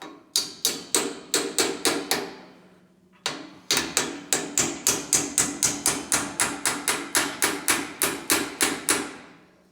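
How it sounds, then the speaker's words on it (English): Steady hammer blows drive a pin into a motorcycle foot peg mount while fitting old MX pegs to a modern KTM mount kit: sharp, close metallic strikes, about twenty of them, in two runs separated by a brief pause. "And I get the hammer."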